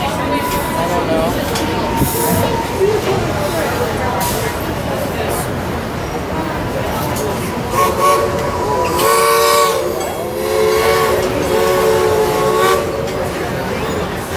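A Cedar Point amusement park train rolls past with a steady rumble and rattle, and its steam whistle sounds in sustained tones near the middle. People talk and crowd noise runs underneath throughout.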